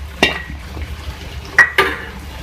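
A spoon stirs three to four medium tomatoes into a potato mixture in a pan, giving a few sharp metallic clinks and scrapes over a quiet, soft sizzle.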